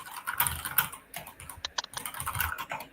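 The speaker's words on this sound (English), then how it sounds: "You're gonna hear Hamza typing." Close, rapid keyboard typing with irregular clicks and clacks, fast bursts separated by brief pauses, with no voices.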